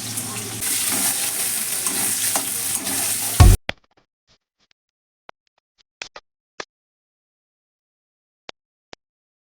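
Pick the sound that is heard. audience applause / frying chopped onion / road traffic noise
frying chopped onion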